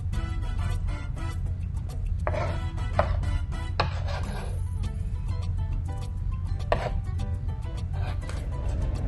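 A knife rapidly chops and minces garlic cloves on a cutting board for pico de gallo salsa, producing a steady run of close, sharp tapping strokes with no talking.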